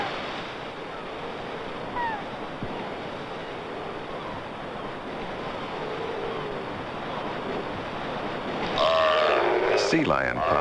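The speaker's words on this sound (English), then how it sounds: "Sea lion pups are growing rapidly. They too frolic in the surf" Sea lion pups frolicking in the surf of the Aleutian Islands, with a steady roar of waves washing throughout and a louder burst of higher-pitched cries and splashing near the end.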